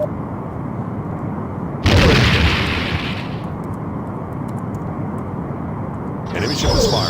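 Weapon fire in a Star Trek The Next Generation space combat game: a loud burst of a launch, then a rumbling whoosh and another blast near the end, over steady engine hum, with talk.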